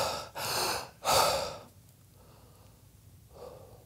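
A demonstration of shallow breathing: two loud, noisy, rasping breaths close to the mic, followed by quieter, softer breaths; no speech.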